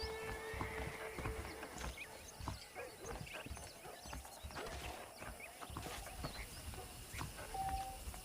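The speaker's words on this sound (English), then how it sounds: "The horses are saddled up over here." Saddled horses in Red Dead Redemption snort, whinny and clop their hooves in an irregular rhythm at close range, mixed with faint ambient game sounds and a light bell-like ding near the end.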